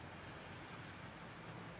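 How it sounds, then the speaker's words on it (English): Rain falls steadily outdoors in freezing cold weather, a soft, even hiss of many drops spattering on surfaces, fairly faint and continuous with no voices. "even though it's freezing cold out here in the rain"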